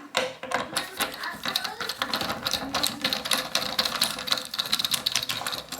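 A small, older screw is backed out of a monorail drawer with a power driver fitted with a smaller bit, giving close, rapid whirring and ratcheting bursts that run almost continuously.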